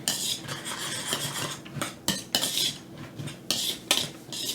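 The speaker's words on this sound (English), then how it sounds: "Just keep stirring it up. Get the eggs all mixed up real good in it." Meatball mixture with chopped celery and eggs stirred in a bowl, with busy clinking and scraping of a utensil against the dish in uneven bursts, close and without talk.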